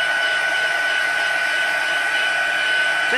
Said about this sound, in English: just giving it a wee dry off with my heat tool